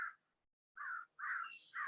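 Noisy crows caw outdoors during a quiet yoga session, three or four loud harsh calls in quick succession after a brief pause, with no talk.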